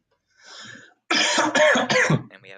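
A person coughs in a short burst of several harsh, close coughs, preceded by a softer throat noise and trailing off with a brief wheezy exhale, no speech.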